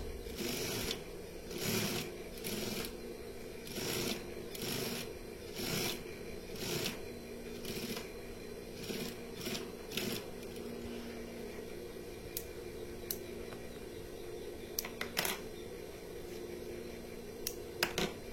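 Sewing machine stitches along the lining of a koko shirt collar close to the edge, faint bursts of rapid mechanical clatter starting and stopping, with small clicks in between and no talk.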